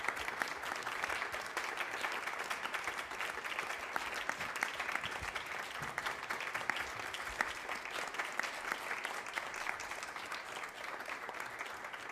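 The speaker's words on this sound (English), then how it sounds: "I'm guessing the audio for the applause isn't indicative of what's actually" Concert audience applause for a singer, heard as a steady, even roar of many clapping hands that continues without a break, somewhat distant and compressed.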